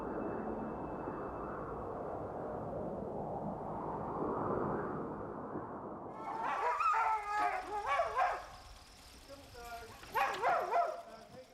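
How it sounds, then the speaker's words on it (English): Purebred Inuit sled dogs at a kennel in Ely, Minnesota give several yips and howl-like barks in the second half, fairly close, after a stretch of steady rushing background noise. "Paul Shirky's kennel in Ely, Minnesota is home to 60 purebred Inuit dogs"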